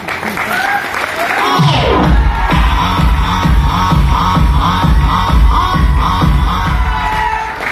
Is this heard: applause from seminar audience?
yes